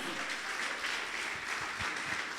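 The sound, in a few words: congregation applause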